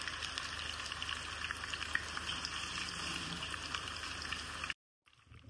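Egg-filled mince koftas fry in hot oil with a steady, dense sizzle that runs unbroken before cutting off abruptly near the end.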